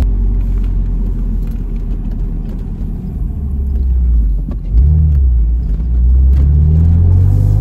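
A BMW Z4 roadster drives along after a starter motor replacement, its mid-pitched engine rumbling steadily with a couple of swells as it accelerates, loud and close inside the car.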